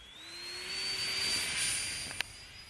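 A homemade RC Su-57 Felon model jet powered by an electric ducted fan flies overhead, its steady high-pitched whine rising slightly in pitch and holding fairly close, with a brief sharp click near the end.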